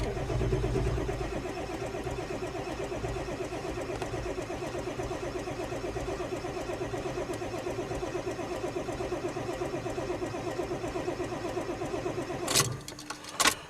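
Diesel engine cranking over on a cold start after the glow plugs are cycled, a steady mid-pitched turning and chugging that runs for about twelve seconds before stopping abruptly, followed by a couple of brief knocks.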